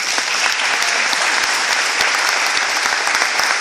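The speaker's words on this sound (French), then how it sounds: "Tu peux acclamer le Seigneur." A church congregation applauds and cheers for the Lord, with steady dense clapping that fills the room throughout and loud, sustained crowd noise and no clear speech.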